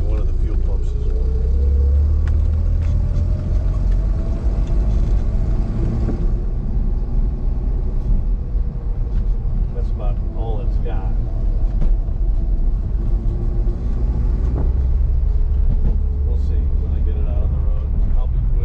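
A 1973 Datsun 240Z engine runs rough at idle, a loud continuous uneven rumble with a lumpy, stumbling low drone throughout, close to the listener, with no clear pauses.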